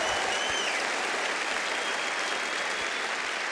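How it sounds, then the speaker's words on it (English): Steady, dense applause from a large audience at a comedy festival show, sustained and even throughout with no voices over it. "Give them a round of applause to make them feel very welcome"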